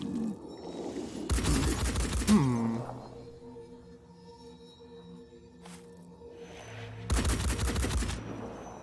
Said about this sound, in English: they changed how Gauss weapons sound since back in the day